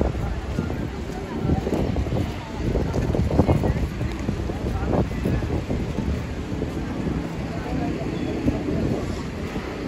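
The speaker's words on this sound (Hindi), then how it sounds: "हरी मज़ेदार हवा चल रही है।" Wind gusting outdoors in Madina, a steady loud rumble buffeting the microphone for the whole stretch, with faint voices and crowd murmur beneath it.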